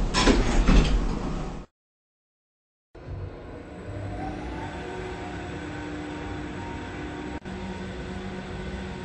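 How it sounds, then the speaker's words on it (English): Traction elevator doors slide shut in an office building. A short loud burst comes first, then a break of silence, then a low steady hum and rumble of the car with one faint clunk near the end. "Doors closing."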